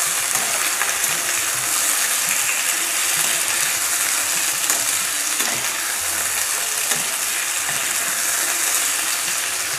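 Potatoes fry with asafoetida in a pan, giving a loud, dense, continuous sizzle with faint stirring scrapes throughout.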